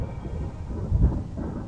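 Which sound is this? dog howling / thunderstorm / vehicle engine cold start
thunderstorm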